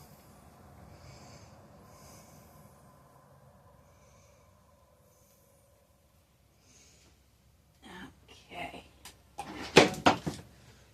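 Objects clatter and knock over on a crafting table during vase painting, after a quiet stretch come a few hollow, irregular bangs and rattles, close and fairly loud.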